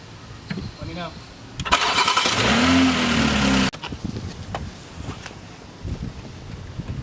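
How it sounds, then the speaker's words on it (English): A Toyota Supra fitted with a new flex fuel setup cranks and catches, a loud burst of engine noise lasting about two seconds before cutting off abruptly, with voices talking around it. "start the car, and make sure everything is running perfect"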